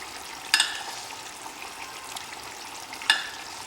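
Soft, steady sizzling as broth is poured over a mutton leg cooking in a pan, with two sharp clinks of a utensil against metal.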